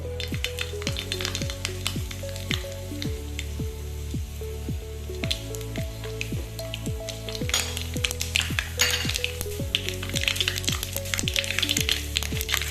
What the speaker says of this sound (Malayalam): നന്നായിട്ട് ഓയിൽ ചൂടായിട്ടുണ്ട് നമുക്ക് കടുകിട്ട് കൊടുക്കാം